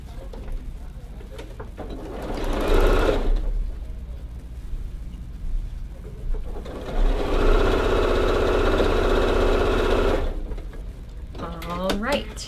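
Pieced quilt block units being sewn on a sewing machine: two steady runs of close, humming stitching separated by a pause, with soft handling noises and a brief voice near the end.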